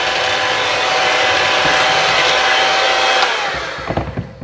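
Oatmeal chocolate chip raisin cookie dough being stirred, heard as a loud, steady whirring that runs for several seconds, then cuts off into a few soft knocks.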